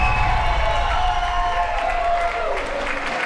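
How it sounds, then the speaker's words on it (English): A wrestling crowd at the Commodore Ballroom in Vancouver roars and cheers loudly, a sustained wash of voices and clapping with a ringing tone running through it. "And the crowd goes wild."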